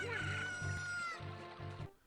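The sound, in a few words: chicken clucking, Ocarina of Time video game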